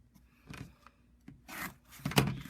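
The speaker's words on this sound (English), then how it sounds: "and then cutting between those 2 seams that we did" Scissors or a rotary blade cut through quilting fabric between two sewn seams, giving a few short rough rasping strokes with brief pauses between them, close and moderately loud with no talking.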